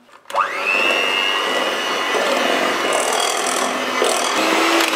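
An electric stand mixer runs steadily on low, churning butterfly fairy cake batter with egg and flour after a quick spin-up, a loud continuous whir with no talking.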